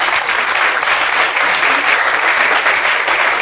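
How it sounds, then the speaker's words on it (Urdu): Dense, loud applause from a church congregation clapping for a boy, steady and continuous throughout without any talking. "یہ بچہ بہت شاندار ہے, بادشاہ کے لیے تالیاں بجائیں"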